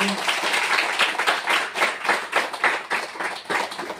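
Church congregation clapping during a Christian sermon, a continuous rhythmic patter of many hands at moderate distance, with a voice faintly underneath.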